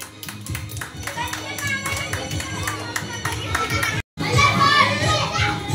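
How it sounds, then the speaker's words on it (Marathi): An audience claps rhythmically for the winner of a children's potato race game, the quick claps sounding over lively children's chatter and crowd voices. There is a brief dropout before a louder burst of noise. "टाळ्या वाजवायच्या."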